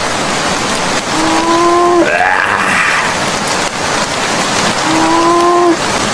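Steady rain falls across a cartoon village scene at early morning, a constant hiss filling the background, with brief tonal calls rising over it.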